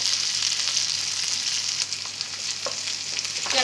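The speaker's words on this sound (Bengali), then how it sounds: "ক্যাপসিকামটা দিয়ে অল্প একটু নাড়াচাড়া করে আস্তে আস্তে সসগুলো মেশাতে হবে।" Capsicum being stirred with sauces in a hot pan for chilli paneer, a steady close sizzle with a few scraping stir clicks and no voices.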